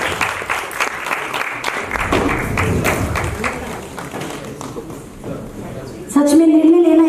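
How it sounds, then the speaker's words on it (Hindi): Audience applause at a theater festival prize distribution, a dense spread of claps filling the hall, with voices talking over it and a louder tonal sound cutting in near the end. "जोरदार तालियां हमारे जेपी सर के लिए"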